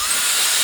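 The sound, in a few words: Tomzio 200,000 RPM electric air duster fan blowing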